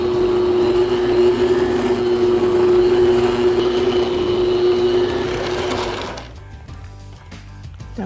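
An electric stand mixer blends gingerbread cookie dough with milk on medium-low, giving a steady, close motor whine for about six seconds before it winds down and stops, leaving faint clatter.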